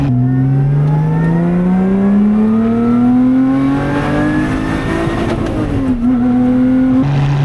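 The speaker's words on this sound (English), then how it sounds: "I hope you enjoy the exhaust mic back there, that must sound insane." A Lotus sports car exhaust, heard through an exhaust mic on a drive in the Alps, roars loudly and steadily, the engine note climbing as it revs, dipping briefly, then holding high; no voices.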